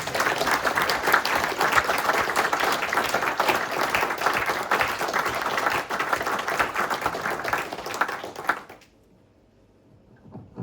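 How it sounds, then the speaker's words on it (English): Audience applause at a prostate cancer support group open meeting, steady and full for about nine seconds before cutting off abruptly into near silence. "we have a round of applause?"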